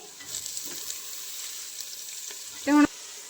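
Chopped mustard greens (saag) are stirred into fried spices in a pan, making a soft, continuous sizzle with light stirring scrapes, then a short, sharp squeak near the end.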